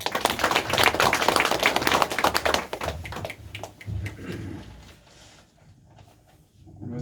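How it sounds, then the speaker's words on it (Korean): Audience applause at the 22nd Jeollabuk-do organic farming convention, loud dense clapping from many hands for about three seconds that then thins into scattered claps and fades into near quiet. "큰 박수 부탁드리겠습니다"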